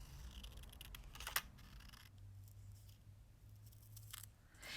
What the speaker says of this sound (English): And I like using large scissors for this kind of cutting.